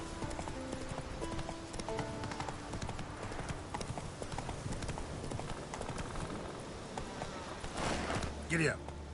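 Horse hooves clip-clop at a steady walking pace in The Witcher 3, with game sounds underneath and a voice talking over the hoofbeats.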